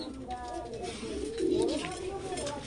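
Cooing of large Napta pigeons, black-green in colour, a breeding pair with the hen on eggs, heard as low, close coos under a steady bed of other birds and loft noise, with a swelling coo near the middle.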